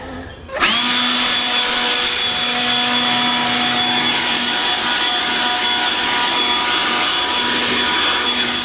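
A leaf blower starts abruptly and runs steadily and loud, clearing bees out of a honey super during the honey harvest, with a constant whining drone and no speech.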